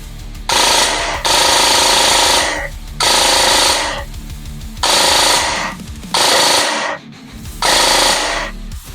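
A JingJi SLR B56 airsoft gun with an upgraded metal gearbox fires full auto in five long bursts of rapid, rasping mechanical chatter, close and loud, separated by short pauses.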